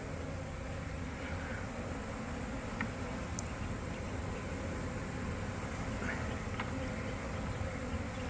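A honeybee colony, removed from under a home and held in a vacuum catchment, gives off a dense, continuous buzzing drone, steady and close throughout, with a few individual bees whining briefly above the swarm.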